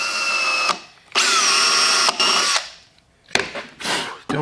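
A power drill bores a dowel hole in wood in several bursts: a long whining run, a brief pause, another run, then short stop-start spurts as the bit is eased out.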